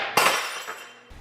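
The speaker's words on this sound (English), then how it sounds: "I just broke a glass" A drinking glass breaks in a home kitchen during baking, one sharp shattering crash followed by a brief trailing tinkle of shards and a faint clink at the end.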